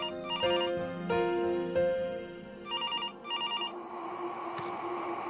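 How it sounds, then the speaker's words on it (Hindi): Landline telephone ringing indoors, bright electronic ring bursts repeating in a steady pattern, fairly close and clear, with no talking. "अगर मोबाइल फोन नहीं उठाया ना तो ऐसे लैंडलाइन पे कॉल आते हैं"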